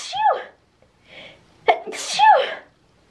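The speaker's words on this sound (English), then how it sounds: "I'm gonna sneeze." Two sneezes, each with a short breathy intake before it, sounding close and fairly loud against a quiet background.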